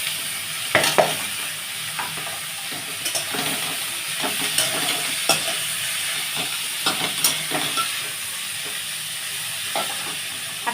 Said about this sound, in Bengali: এইগুলো ভাজা হবে।